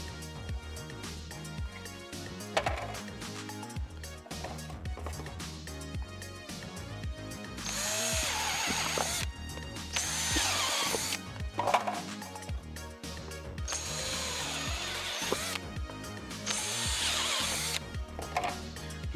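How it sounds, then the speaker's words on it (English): Big hole saw on a drill cutting access holes into a Scout Trooper prop helmet: loud grinding bursts of cutting that start and stop over a steady tool hum, close by, with no talking. "as I've got this big fat hole saw on"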